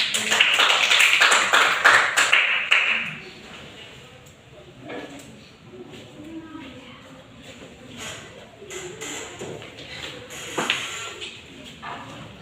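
Classroom applause for a classmate who has just finished a presentation on the solar system, with a burst of clapping at the start that soon thins into scattered claps and murmuring.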